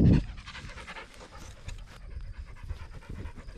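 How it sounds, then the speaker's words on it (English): A ranch herding dog pants close by in quick, steady rhythmic breaths after a brief louder burst at the start, with no talking. "And Hadley, sure is nice to have a good dog"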